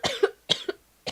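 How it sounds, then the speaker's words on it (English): A sick person coughs three times in quick succession, close and fairly quiet, each short raspy burst separated by a brief pause. "I have to cough."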